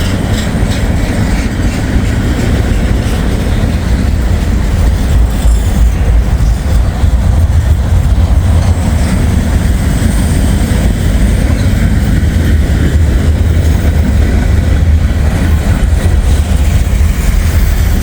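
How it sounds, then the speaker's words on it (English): A freight train with a DPU locomotive rolls past: a loud, continuous low rumble and rattle of rail wagons holds steady throughout, with no breaks and no voices. "DPU coming through. DC to AC."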